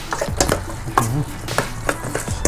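Liver stir-fried with chili in a hot pan gives a busy sizzle and crackle, with repeated scraping and clattering of a utensil against the pan in quick irregular strokes, close and fairly loud, without talk.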